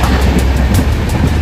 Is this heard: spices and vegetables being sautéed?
no